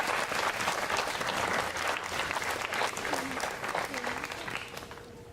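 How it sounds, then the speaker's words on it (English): Outdoor civic band concert audience applauding the marching band, a loud, dense burst of clapping that tapers off near the end, with voices talking over it. "Give them all a round of applause."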